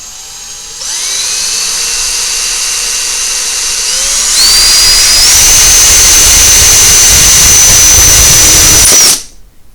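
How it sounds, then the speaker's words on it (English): An electric drill boring a quarter-inch hole near the edge of a lamp, loud and close, its motor whine rising in pitch in steps as it speeds up under load, then cutting off abruptly. "Now you want to drill this hole as close to the edge as possible without hitting the lip."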